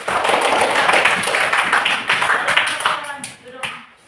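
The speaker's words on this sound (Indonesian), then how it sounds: "Sekarang tepuk tangan buat Tati." A classroom of students claps for a classmate named Tati, a loud, close burst of many hands with some rhythmic group clapping that thins out and fades over a few seconds.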